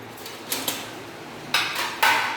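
Dishes and utensils clatter while rice is served at home: a few light clinks early on, then two louder, sharper clattering bursts close by, with no talking.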